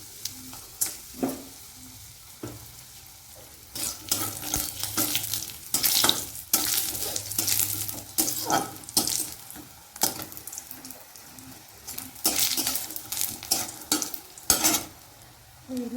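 Beans hit hot oil in a wok along with panch phoron spice mix and dried red chillies, crackling and sizzling while a spatula scrapes and stirs in irregular bursts, close and fairly loud, with no talking.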